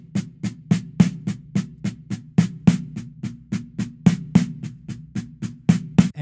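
A drum fill of six-stroke rudiments in sixteenth-note triplets, a rapid even run of snare-and-tom strokes with regular accents pulsing throughout, close and alone.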